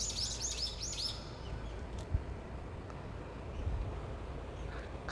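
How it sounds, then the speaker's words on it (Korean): Birds chirp in a short flurry at the start of a summer morning, then fade into a steady breezy outdoor hush with only faint scattered calls. "갑자기 새소리가 왁자지껄하네요."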